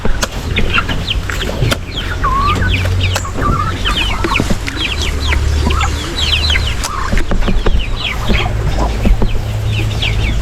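A flock of chickens clucks continuously and close by while feeding on free vegetables, with overlapping chatter and the occasional rooster-like call, loud and busy throughout.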